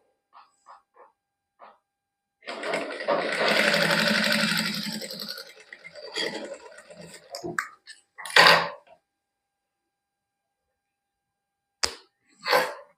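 A domestic sewing machine stitches a salwar lining seam in a short continuous whirring run, followed by a few brief bursts and clicks with quiet gaps between.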